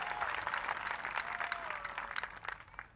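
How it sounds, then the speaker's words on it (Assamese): A crowd applauding at a rally against the citizenship law in Nalbari, a dense, continuous patter of many hands clapping at a distance, steady throughout with no talk over it. "আপোনালোকে কেনে হাত চাপৰি মাৰিবলৈ অনুৰোধ জনাইছোঁ"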